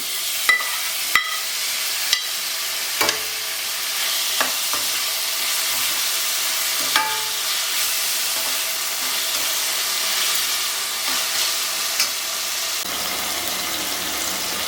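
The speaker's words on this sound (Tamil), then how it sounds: "இந்த ஸ்டேஜில் வந்து நம்ம கட் பண்ணி வச்சுருக்க தக்காளி எல்லாத்தையும் ஆட் பண்ணிக்கலாம்" Chopped tomatoes sizzling and frying in a pan of egg curry base, a steady close hiss broken by sharp clicks and scrapes of stirring across the whole stretch, with no talking.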